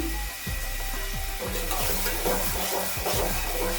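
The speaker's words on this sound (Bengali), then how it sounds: "এখন আমি হাফ চামচ রসুন বাটা এক চামচ আদা বাটা দিয়ে দিলাম" Ginger and garlic paste hits softened tomatoes frying in a pan with a loud, steady sizzle, while repeated stirring strokes sweep through it in a regular rhythm.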